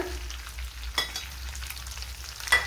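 Soft, steady sizzling of peanuts frying in hot oil for a snack mixture, with a couple of brief scraping stirs against the pan.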